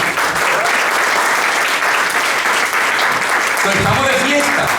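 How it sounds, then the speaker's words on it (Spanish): A church congregation at a Resurrection service applauds loudly and steadily, a thick, even roar of clapping with voices mixed in toward the end. "Así para dar un aplauso a ustedes ahora"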